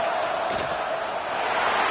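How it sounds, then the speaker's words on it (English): A football stadium crowd waits through a field goal attempt late in a game, producing a steady, loud, distant roar with no clear peaks across the whole stretch. "this crowd knows this is a huge field goal attempt"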